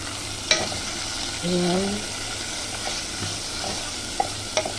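Chicken pieces sautéing in oil in a pan for arroz caldo, Filipino chicken rice porridge, with a steady frying hiss, occasional utensil clicks and scraping from stirring, and a brief voice partway through.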